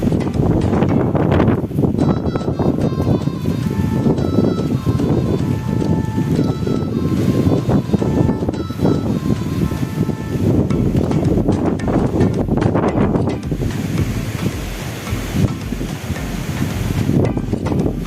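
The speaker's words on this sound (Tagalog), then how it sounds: "Grabe ang hangin guys." Strong wind during a dust storm in Bahrain buffets the microphone outdoors with a continuous heavy rumbling roar and gusty surges lasting throughout, loud and close.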